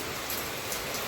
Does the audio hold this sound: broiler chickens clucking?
no